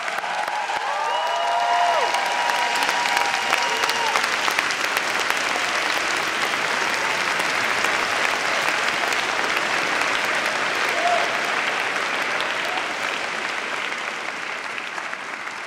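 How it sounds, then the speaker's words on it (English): A large audience at a 2018 Tufts baccalaureate service applauds steadily for about fifteen seconds, a dense, continuous clapping that fades slightly toward the end. "Seniors, please give them a hearty round of applause."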